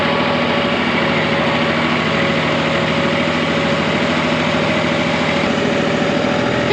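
A tractor engine hums steadily and loudly through the whole stretch, a low, constant drone with a faint vibrating rattle and no voices.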